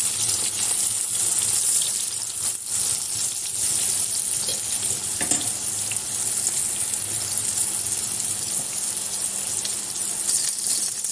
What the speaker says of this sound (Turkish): Bakın kızaran kabaklarımı güzelce çeviriyorum.